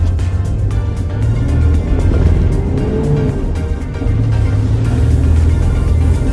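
A 2006 Lexus IS250 pulls away from a stop and accelerates, its engine note rising and then dipping at a gear change before climbing again, loud and close as if heard from inside the car, with no talking.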